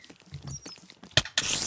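Minecraft spiders make quick, scratchy patter and hissing chitters in a short burst, close and fairly faint, rising to a brighter noisy rush at the end.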